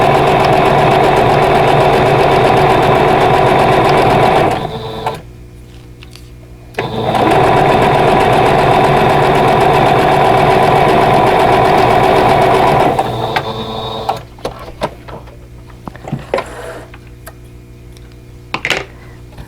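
A sewing machine stitches a seam on an Arkansas Snowflake quilt block in two long, steady runs, pausing briefly between them before stopping; a few faint handling clicks follow.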